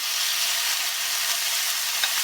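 Marinated chicken pieces sizzle in a hot pan with a dense, steady crackling hiss, close and continuous, with no voices over it.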